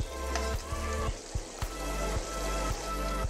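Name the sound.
coconut paste and spices frying for mutton curry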